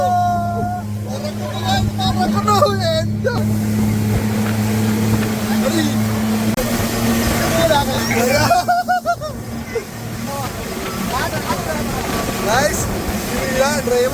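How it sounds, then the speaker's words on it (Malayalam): A speedboat speeding across the water at Khor Fakkan, its engine roar droning steadily up close beneath excited chatter and laughter from passengers on board. "ബോട്ട് പറക്കുന്നു"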